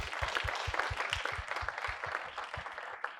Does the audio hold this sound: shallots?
no